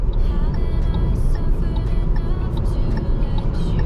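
A 2022 Maxus G50 engine pulling hard on the road, a steady loud drone with rising tonal whine heard from inside the cabin, no talking.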